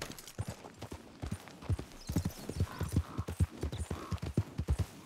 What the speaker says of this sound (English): Where's this horse at, though?